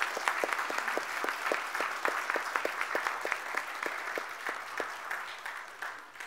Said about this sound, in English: How about a round of applause for these men and women?